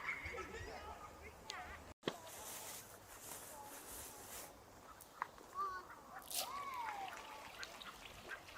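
Ducks at a river bank rush in for feed, giving faint quacks and honking calls over steady outdoor background noise, with a brief knock near the start and a few sharper calls toward the end.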